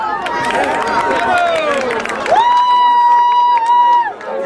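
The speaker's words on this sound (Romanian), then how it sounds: "Aplaudați-o!" Crowd at a cross-country race award ceremony and raffle applauds and cheers for a women's category winner, with steady loud clapping and babble, while a held tonal sound over the crowd noise glides and steadies near the end.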